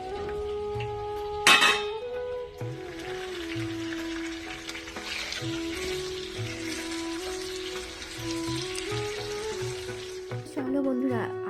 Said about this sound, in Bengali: তো চলো একটা একটা করে সব ভেজে নিই।